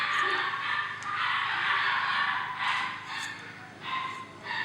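Lagotto puppies whine and yip in the background, with several high, thin cries rising and falling in short bursts at a moderate distance.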